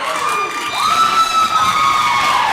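A basketball crowd at a junior varsity state championship game cheers loudly with cheerleaders, a dense wash of shouting voices and high, sustained squeals rising and holding over the noise.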